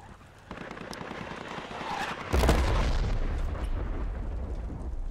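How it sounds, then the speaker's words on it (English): Mortar shells exploding in the Project Reality war game: a sharp blast followed by a heavier, louder detonation that leaves a sustained low rumble, over a busy battlefield background. "What are these mortars doing, man? Every time I get close, they're mortaring me."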